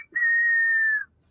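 A person whistles like a pressure cooker, a single sustained steady high-pitched tone lasting about a second, close and clear against near silence.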